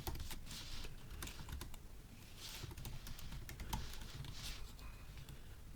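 Rapid, irregular keystrokes on a computer keyboard clatter continuously at close range and fairly quiet, with small bursts and pauses and no voices.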